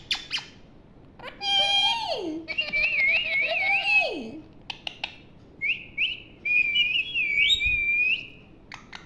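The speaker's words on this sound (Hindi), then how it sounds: "सीटी बजा दो बाबू" A pet parrot whistles close and loud in warbling, rising and falling phrases, with sliding tones and short squawks between bursts.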